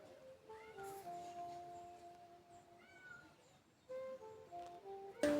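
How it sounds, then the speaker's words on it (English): A cat meows softly several times, high wavering cries with short gaps between them, heard faintly against a quiet background. "we got a cat we've never had. You can hear her."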